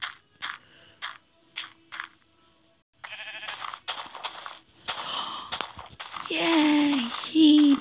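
Two short, wavering sheep bleats from Minecraft Pocket Edition come near the end, following several seconds of choppy talk and game noises.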